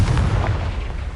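A Confringo spell blast in the game Hogwarts Legacy erupts as a loud, rumbling explosion with a heavy low boom that rolls on and slowly decays, no voices.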